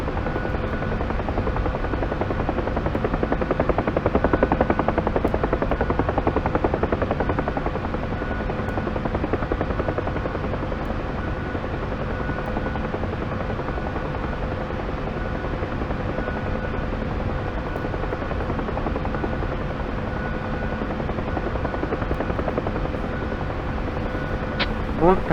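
Steady, loud drone of a UH-1 Huey helicopter's engine and rotor in the DCS flight simulator, a constant mechanical whine with a low rhythmic thump, with radio chatter faintly under it throughout.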